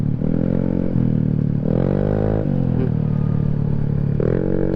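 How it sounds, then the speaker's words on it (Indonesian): A motorcycle engine hums steadily while riding, close and loud, with pitch rising and falling through several gear shifts and throttle changes, joined by faint wind and clatter from a helmet-mounted camera. "ternyata motor ini menyenangkan ya"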